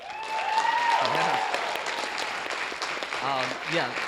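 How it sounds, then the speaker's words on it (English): Applause from a school concert audience for the lighting and stage crew, a steady wash of clapping throughout with voices and cheers mixed in. "Let's give them a round of applause."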